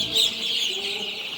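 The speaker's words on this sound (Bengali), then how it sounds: "এগুলো হচ্ছে কালার বার্ডস মুরগি ও কালার বাট মুরগি" Six-day-old colour bird chicks on a poultry farm give a continuous, thin, high peeping, close and moderately loud through the short moment.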